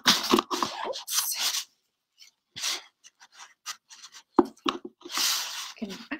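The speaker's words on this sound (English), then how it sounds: "I'm just cutting off the bottom part." Scissors or a craft blade trimming the border off a diamond painting canvas while framing it, crisp cutting and crunching strokes in bursts with pauses, close up, with some speech around them.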